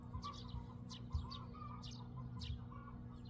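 Chickens cluck and call faintly in the distance on a quiet morning in Seosan, South Korea, their short repeated calls rising over a low steady hum of background noise.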